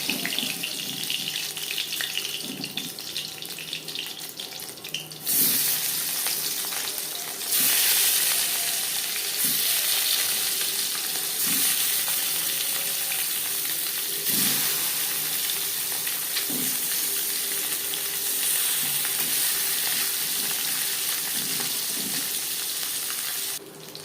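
Fish frying in hot oil in a kadai, a dense continuous sizzle with water-like hiss, occasional utensil taps, and a louder surge partway through as the pan is disturbed; no speech.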